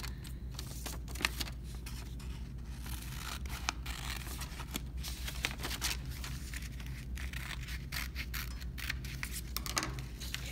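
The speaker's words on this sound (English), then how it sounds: "make sure your scissors touch all the way into the crease of your stop line" Steady close scissors snipping through paper for a paper loom, a dense run of crisp cuts and scraping that continues throughout without speech.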